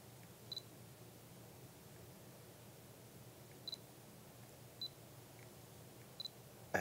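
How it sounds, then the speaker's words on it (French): Fujifilm FinePix F800 compact digital camera giving several faint, brief electronic beeps and shutter clicks, spaced a second or more apart against a quiet room hiss. "je vais juste prendre une photo."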